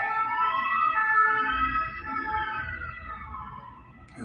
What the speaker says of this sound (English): Just the siren going past, which you could probably hear then.